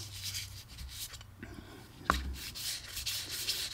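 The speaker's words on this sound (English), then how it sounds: "I'm not really removing material as much as I am just lightly polishing." A reed is lightly polished and smoothed with fine abrasive, giving soft, close, rhythmic rubbing strokes that swell and fade, with one brief sharp tick partway through and no voice.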